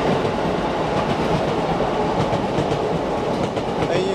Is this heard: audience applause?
no